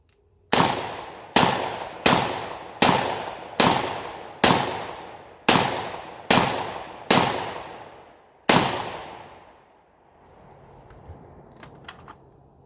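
Rapid string of nine sharp gunshots from a GFY 1 bullpup rifle fed from a 10-round magazine, evenly spaced at close range, each with a short decaying ring, then quiet outdoor background.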